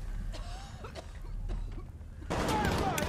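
Gunfire from an episode of The Last of Us TV series: scattered distant shots crackle over a low rumble, then a louder, denser burst of firing arrives near the end.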